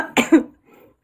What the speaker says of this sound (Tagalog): may ubo kasi ako kasi malamig na dito